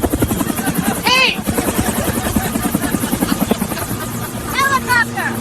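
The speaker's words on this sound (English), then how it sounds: "Helicopter." A helicopter's steady rotor beat pulses loudly throughout, with chirping, whistling bird calls and a voice over it.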